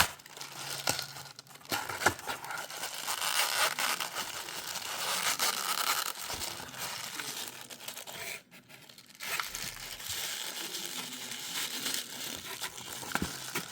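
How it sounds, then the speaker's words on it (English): Plastic and cardboard packaging around a Marvel Legends Amazing Fantasy Spider-Man figure is ripped open, giving close, irregular crinkling and tearing with brief pauses throughout. "Need to rip this out, I guess."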